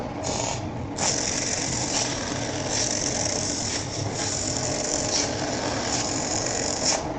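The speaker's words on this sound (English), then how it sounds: "In this way, we can run a polishing machine" A comb mirror polishing machine starts and runs steadily, giving a dense, continuous mechanical whir with a ratcheting, gear-like rattle and periodic faint pulses, close and loud throughout.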